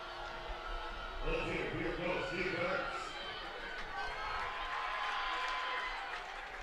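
High school varsity football crowd at an Ashwaubenon home game, a swelling roar of cheering and chanting in the stands that rises and then settles back into general crowd murmur, with a commentator talking over it.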